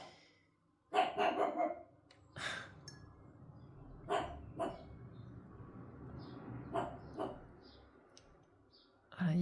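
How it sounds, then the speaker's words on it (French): A dog acting as a guard dog barks in a garden, a few sharp barks and half-barks at moderate distance, with scattered clicks and faint bird sounds in a quiet setting. "il y a mon chien qui se prend pour un chien de garde"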